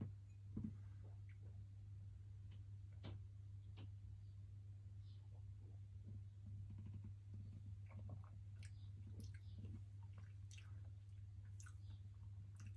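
Soft, wet chewing and squishing of a sip of whiskey held in the mouth, a Stellum single barrel bourbon worked around the tongue in the Kentucky chew style, with faint ticks and smacks over a steady low hum, close and quiet, no talking.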